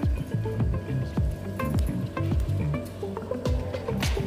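Palm oil sizzles as it goes into a pot of shrimp soup with crayfish, a steady close frying hiss broken by repeated soft stirring knocks and scrapes.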